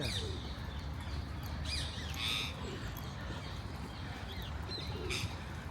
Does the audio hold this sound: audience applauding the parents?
no